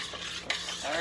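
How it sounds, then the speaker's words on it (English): Curry powder being stirred into a pot of gumbo, a brief soft scraping stir over a gentle simmering hiss, with one light utensil tap midway. "Stir that in."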